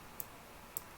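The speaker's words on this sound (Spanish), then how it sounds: "Doble clic" A computer mouse double-clicks in one quick pair of faint, sharp ticks against a quiet background hiss.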